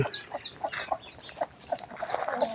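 Chickens cluck nearby with short, irregular calls, mixed with thin high peeping from newly hatched chicks, over light outdoor background noise at a temple in Lampang, Thailand.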